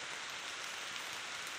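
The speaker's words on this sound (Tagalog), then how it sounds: "Napakalakas ng ulan, oh." Heavy rain pours steadily outdoors on a farm field, a dense, unbroken hiss of drops drumming on surfaces with no pauses and no voices.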